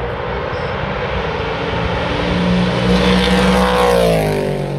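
Corvette race car engine roaring at Petit Le Mans, a steady deep drone that swells as it draws nearer, then sweeps upward in pitch as the car passes, with no talking.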